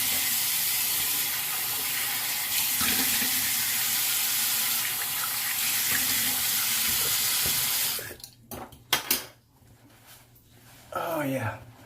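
Steady rushing water from a tap, running for rinsing after a barbershop shave, fills the first eight seconds loud and close, then cuts off and leaves a few knocks and clatters.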